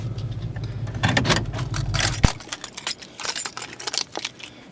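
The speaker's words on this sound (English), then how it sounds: "Got my keys." Car keys jangle and clink in a few quick, close bursts of metallic rattling, with quieter handling noises in between and no talking.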